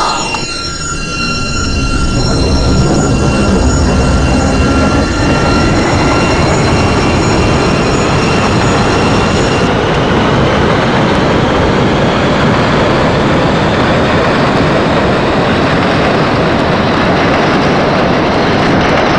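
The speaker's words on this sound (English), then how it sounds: "This is a Manhattan-bound 7 express train." An NYCTA 7 express subway train in the openBVE simulator, starting with a rising whine, then a loud steady roar of wheels and motors rumbling on the track for the whole stretch.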